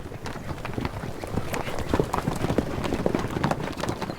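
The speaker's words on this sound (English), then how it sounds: "Other customs in Mestia are just as exciting, such as bareback horse racing" Horses galloping in bareback horse racing at a local festival in Mestia: a dense, continuous run of hoof clip-clops drumming in quick rhythm throughout, fairly close and steady, with no talk.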